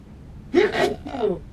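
A character in the Tales of Monkey Island video game sneezes, a short close two-part burst with a sharp intake and then a release, standing alone against a quiet background.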